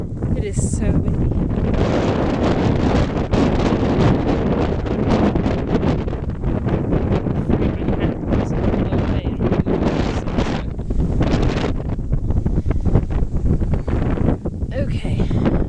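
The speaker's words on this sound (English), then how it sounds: "It is so windy." Strong gusts of wind batter the microphone outdoors near a bird nesting site, a loud, constant rumbling buffet for the whole stretch with brief dips.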